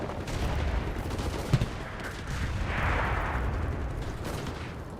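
Gunfire crackles from the WWII video game Enlisted, a dense, continuous barrage of distant shots and rattling bursts with no talking.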